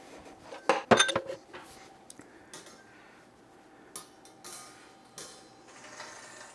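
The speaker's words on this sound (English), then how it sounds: "Let me put the mixing bowl away." A mixing bowl from making Dutch egg cakes is put away in a home kitchen, giving a loud cluster of clattering, rattling knocks near the start, then a few scattered lighter clinks and bumps.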